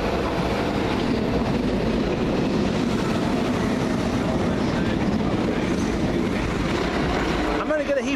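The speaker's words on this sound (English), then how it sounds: "Steam train." A steam train passes near Stamford Brook in London, giving a continuous, moderately loud rolling rumble with faint rail clatter that holds steady throughout.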